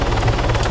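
Helicopter in flight in the Arma 3 video game, a loud continuous rotor and engine roar with a fast low thudding pulse filling the whole moment, no speech over it.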